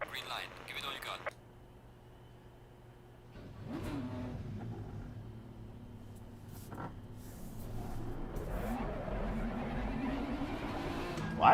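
Nissan GT-R engine in the racing game Assetto Corsa Competizione, a low droning rev that rises and swells, with a player talking over it near the start.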